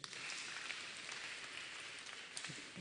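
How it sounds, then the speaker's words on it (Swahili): A church congregation at a Kikuyu youth-week service claps in a steady, dense patter. The clapping is even and fairly distant, with no voices over it. "Tumpigie makofi."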